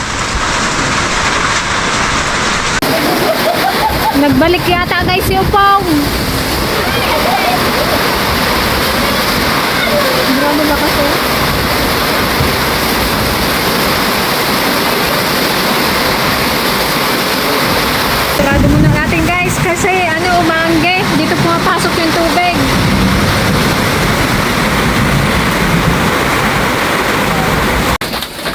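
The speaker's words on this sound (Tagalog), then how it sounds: "yung ulan, ang lakas" Heavy rain pours down during a storm with a loud, constant roar of falling water that never lets up, while people talk over it now and then.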